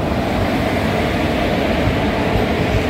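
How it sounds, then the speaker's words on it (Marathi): A train rolls loudly into a railway station near Nandurbar, a steady heavy rumble and rushing roar of rail cars passing close by, with no one talking. "हाय आली आमची ट्रेन."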